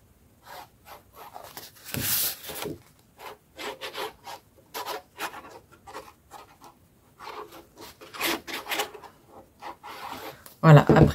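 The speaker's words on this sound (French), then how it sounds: "après étaler au pinceau" A brush spreads glue across cardboard for a handmade book-style advent calendar, making soft, intermittent rubbing strokes in irregular bursts, with a voice talking in between.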